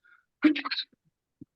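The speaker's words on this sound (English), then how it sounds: "False sneeze." A single short sneeze, close and fairly quiet, followed by a faint tiny click in an otherwise silent room.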